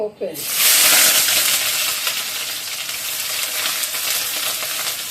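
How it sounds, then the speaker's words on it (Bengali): Onions fry in hot oil with a loud, close, steady sizzle that bursts in right at the start and keeps crackling evenly throughout, with faint stirring and no clear talk. "পেঁয়াজটা ভাজা ভাজা হয়ে যায়,"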